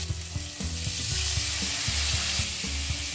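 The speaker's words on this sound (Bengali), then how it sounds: "মশলাগুলো ভাজা ভাজা হওয়ার জন্য সামান্য পরিমাণ জল দিয়ে দিচ্ছি।" Ground spices, including radhuni powder, dried chilli powder and green chilli paste, fry with a splash of water in a pan for a fish curry. They give a steady sizzle with spoon stirring under soft background music.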